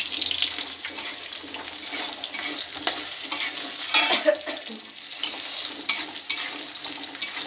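Spice paste frying in a pan for a yardlong bean dish: constant hissing sizzle with stirring scrapes, one sharper clatter midway, moderately close, with no speech.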